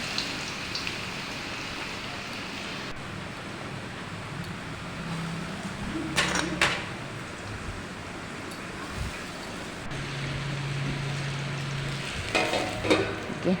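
Potatoes frying in hot oil give a constant crackling sizzle, broken by a few sharp clinks of a utensil against the pan.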